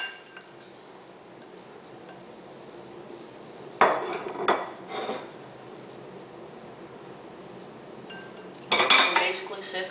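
A metal sifter full of flour is tapped in two short clusters of light, tinny clinks, quiet and close, separated by a stretch of soft background hush.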